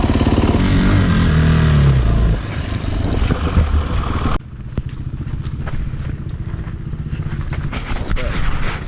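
A dirt bike engine idles and runs at a fuel stop before a freezing ride, a loud buzzy rattle up close that drops and changes partway through, then a lighter, clattering engine sound continues.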